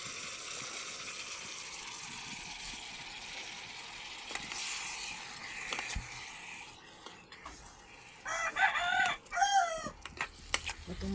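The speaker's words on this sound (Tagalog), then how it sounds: "Ala, ang kulit ng mga manok na to." Chickens and roosters crow loudly in short bursts near the end, over a steady sizzle of garlic and food frying in a pan at an outdoor Bicol Express cooking setup, with no talking.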